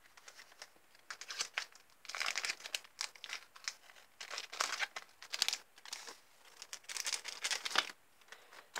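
Scissors cut through a Pokémon card booster pack, with repeated crinkling and tearing of the foil wrapper in bursts, close and fairly quiet, alone without talk.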